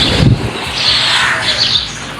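Pigeons on a house rooftop give short squawks and throaty calls, close and fairly loud, with some rustling over about two seconds.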